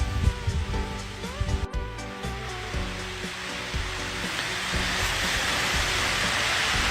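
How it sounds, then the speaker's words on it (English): Heavy rain falls outdoors at night in a steady, dense wash that builds and thickens over the stretch, with a few brief knocks and rustles near the start, and no talking. "The rain just picked up."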